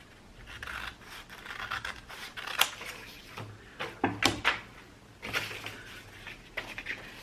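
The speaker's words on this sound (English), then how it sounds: "And then cut it down to fit inside this little cover that I've made." Scissors cutting collaged paper board to size, close crisp snips and paper rustles in irregular bursts, with handling scrapes between cuts and no talk.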